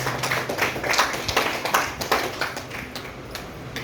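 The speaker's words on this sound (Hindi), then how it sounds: "मैं चाहूंगा इस संस्था के लिए जोरदार शानदार ताली होनी चाहिए" Audience applause for an organisation at a direct-selling business event: a steady wash of many hands clapping, with sharper individual claps popping out near the front, sustained evenly for a few seconds without talk.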